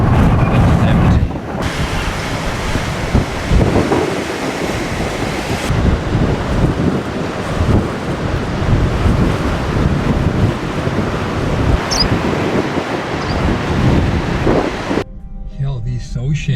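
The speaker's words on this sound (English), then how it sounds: "Hell, this ocean is fierce. The wind is blowing like crazy." Strong wind buffets the microphone while fierce Atlantic surf pounds an empty white-sand beach at Kleinsee, a loud continuous roar of crashing waves and gusts throughout, ending in a brief quieter moment.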